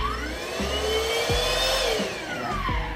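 A Hoover vacuum cleaner runs in a garage, a loud steady whine with its pitch sweeping up and then gently down, close to the listener, and no other sounds alongside it.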